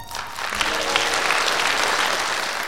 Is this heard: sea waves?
no